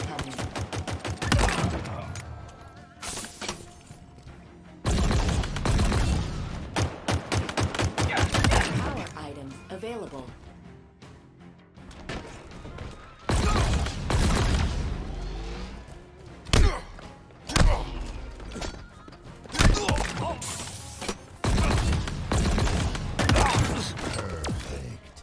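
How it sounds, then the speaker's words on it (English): Weapon fire from Halo Infinite: repeated loud bursts of rapid shots come in clusters separated by quieter gaps, punchy and close, with thuds and mechanical clacks between them. "Primary fire can be used by shooting two bursts at an opponent"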